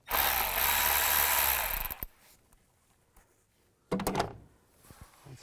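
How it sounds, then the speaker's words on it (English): Worm-drive hose clamp on the intake of a 2017–2022 GMC Acadia, loosened with an 8mm socket or screwdriver: a loud two-second whirring tool burst, a click, quiet, then a second shorter burst and faint clicks. "And now loosen up this worm clamp."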